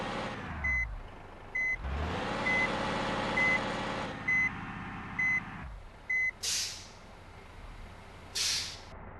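A bus in a bus simulator game reversing, its horn-like beeps repeating at a regular pace over a low engine rumble, with short bursts of air brake hiss near the end.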